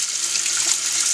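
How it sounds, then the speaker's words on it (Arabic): Cold water runs from a kitchen sink tap in a steady, even hiss, close and continuous with no talking. "هنفتح المية طبعا مية ساقعة عشان نعمل صدمات للبسلة"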